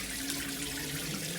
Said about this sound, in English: It's leaking from every joint up top.